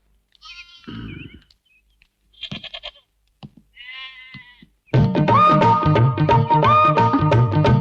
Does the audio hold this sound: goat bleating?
yes